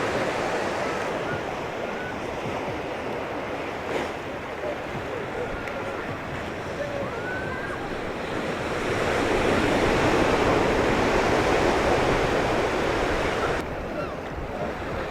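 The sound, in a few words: ocean waves lapping on beach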